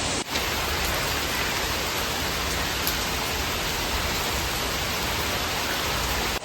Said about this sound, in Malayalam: പുറത്തൊക്കെ നല്ല മഴയുണ്ട്